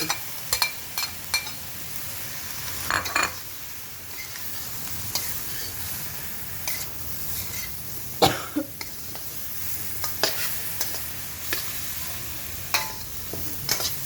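Luffa, pork and shrimp sizzle steadily while stir-frying in a pan, with scraping stirs and occasional clatter over the continuous frying hiss.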